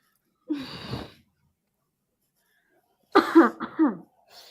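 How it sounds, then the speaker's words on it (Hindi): A single cough burst, then after a pause a second, louder cough in a few rough pulses, close up with silence between. "खांसी आ गई आपको, दवाई ले लो आप।"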